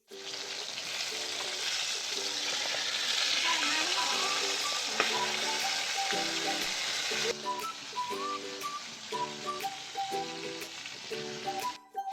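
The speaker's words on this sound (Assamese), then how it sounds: "এইয়া মাছ কেইটামান ভাজি থৈ লোৱা হ'ল ইয়াত, আৰু এই কেইটামান আছে আৰু এই কেইটামান ভাজি থকা হৈছে" Fish pieces frying in oil in a small wok, a loud continuous sizzle and crackle throughout, with a brief sharp clink partway and quieter tones and faint background sounds underneath toward the end.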